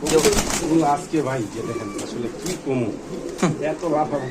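Indonesian colour pigeons coo close by in soft, throaty bursts, mixed with people talking nearby.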